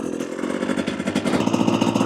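Husqvarna TE250 dirt bike fitted with an FMF Turbine Core 2.1 exhaust idles close by, a steady low rapid putter with a slight rise in level toward the end and no talking.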